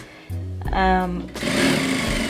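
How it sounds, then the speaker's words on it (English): A sewing machine runs a line of top stitching along the top edge of a fabric storage container: a close mechanical whir that rises and speeds up, pauses briefly, then resumes. "Just going to top stitch along the top edge just to give it a nice sharp finish"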